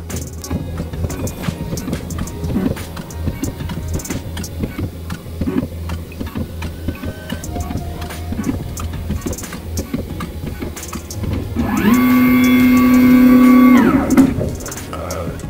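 An xTool S1 diode laser runs a 4x4 point measurement with a continuous mechanical hum and rapid ticking movements, then a loud sustained buzzing tone for a couple of seconds near the end.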